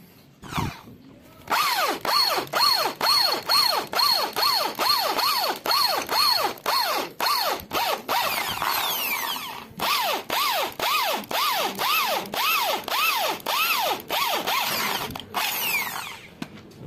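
A power drill whirs in a long series of short, rhythmic bursts close by while fitting a rear brake master cylinder on a Suzuki Satria FU motorcycle, each spin-up rising and stopping, with brief pauses between runs.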